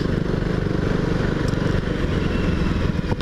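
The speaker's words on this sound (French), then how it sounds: "On parle de la moto." KTM Duke motorcycle engine running steadily and close, a continuous low rumble with no clear gear changes, heard on a street ride in Pattaya.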